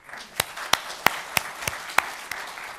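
A few separate hand claps from an audience at a healthcare product showcase, seven sharp, evenly spaced slaps about a third of a second apart, fairly near and crisp against a quiet room.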